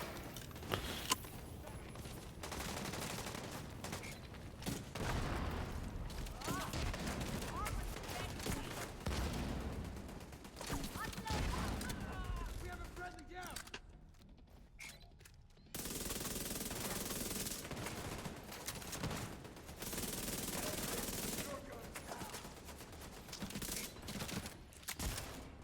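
Sustained rapid automatic fire from gun turrets in a video game, dense and loud for most of the stretch, with a brief drop to near silence midway before the heavy firing resumes.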